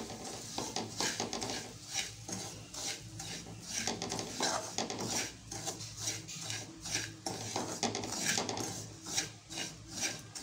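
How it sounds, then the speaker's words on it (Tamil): Semolina roasting in ghee is stirred continuously in a pan, a rhythmic scraping and rubbing of a spoon against the metal, repeated strokes at close range with no talking. "ரவையை நல்லா நெய்யில் வறுத்துக்கோங்க."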